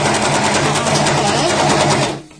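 An overlocker serges fabric around a curve with a loud, steady, fast mechanical whirring close by, then stops abruptly at the end.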